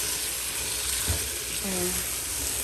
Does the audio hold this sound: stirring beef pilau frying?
yes